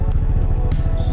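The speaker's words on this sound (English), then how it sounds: "A little bit of revs and let the clutch out." A tuk-tuk engine idles with a steady low, throbbing putter as the clutch is let out during a driving lesson, the pulse close and loud with a few brief hissing bursts.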